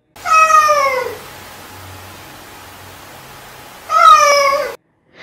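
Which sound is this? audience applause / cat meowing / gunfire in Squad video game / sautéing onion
cat meowing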